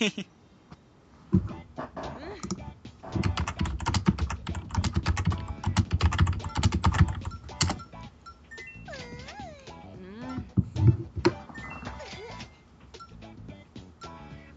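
Rapid typing clatters on a computer keyboard in dense, uneven bursts of key clicks, with people talking over it and a dog-like whimper or squeak sound mixed in toward the end.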